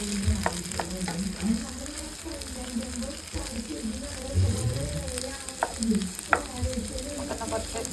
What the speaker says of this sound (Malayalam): കപ്പ ഞാൻ ഇട്ടിട്ടുണ്ട്, നമുക്കൊന്ന് മിക്സ് ചെയ്ത് കൊടുക്കാവേ.